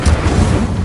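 A fire spell cast in Hogwarts Legacy on PS5 lands as a short, loud burst with a booming low rumble that lasts under a second, with no talk.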